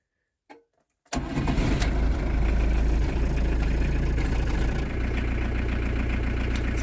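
A camper van engine in cold, damp weather starts after a brief click and cranks straight into a loud, steady close-up idle that continues to the end, with no talking.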